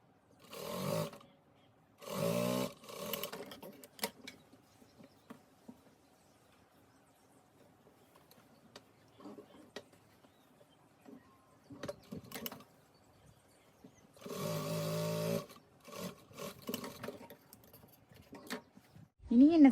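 A sewing machine stitches fabric in several loud bursts of a few seconds each, separated by quieter pauses filled with faint handling sounds.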